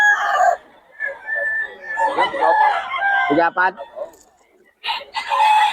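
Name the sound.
Kelso crossbreed roosters crowing and clucking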